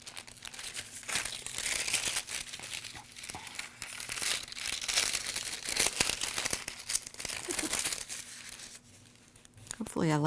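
Sewing pattern paper is folded and pinned, giving continuous close crinkling and crumpling with occasional tearing-like rustles throughout.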